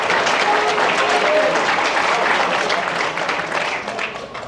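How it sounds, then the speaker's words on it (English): An audience at a high school athletic banquet gives a warm round of applause for senior track athletes, loud at first and tapering slightly toward the end, with a voice faintly audible beneath the clapping. "Give these guys a round of applause."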